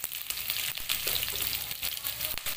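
Grated ginger, finely chopped green chili and a few pinches of asafoetida sizzle in hot oil for a samosa filling, a soft continuous crackle broken by the scrape of stirring, with no voices.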